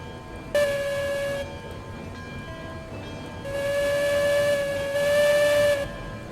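A steam locomotive in the Railroads Online video game vents steam in loud, rushing hisses with whistle-like tones. Several bursts swell and fade over a few seconds, with no talking.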